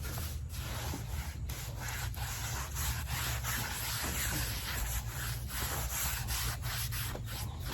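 Rhythmic back-and-forth sanding on a red oak log, loud and close, with regular abrasive strokes repeating steadily.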